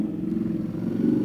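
A motorcycle fitted with an Akrapovic exhaust and a Stage 2 flash rumbles steadily up close, a deep continuous engine note with slight rises in intensity, alone.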